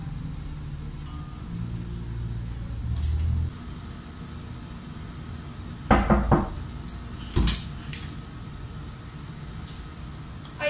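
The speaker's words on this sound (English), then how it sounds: "Ensure to close the door and provide dignity and privacy to my patient." A hospital patient room door being opened and closed, with a muffled movement early on and then a few close knocking thuds and a clunk as it shuts, in an otherwise quiet room.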